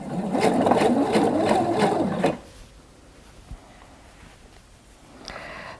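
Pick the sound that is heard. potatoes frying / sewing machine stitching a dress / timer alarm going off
sewing machine stitching a dress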